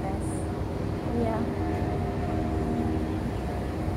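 A steady low rumble of an MTR metro train passing overhead fills the scene, fairly distant, with faint squealing tones riding over the continuous noise, near the seaside.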